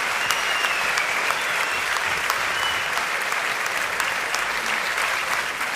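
Loud, continuous applause rises from an audience at an awards ceremony honouring tree planting, with dense clapping and a few sharper claps standing out.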